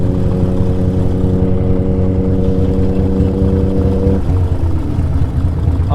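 Boosted Toyota Supra fitted with a drag parachute drives off, its loud steady engine drone heard up close before the pitch shifts and drops near the end.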